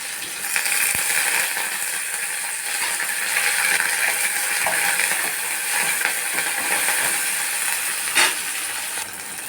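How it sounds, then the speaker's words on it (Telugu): Curry leaves hit hot oil while tempering dal with onions, giving a steady, loud hissing sizzle with scattered pops and crackles that runs for the whole stretch without anyone speaking. "మనం పోపులో కరివేపాకు వేస్తాం కదా, కరివేపాకు వేయాలి."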